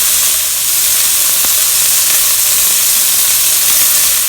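Scallops browning in hot oil in a pan give a steady, close sizzle with a bright crackling hiss that holds level throughout, with no talking.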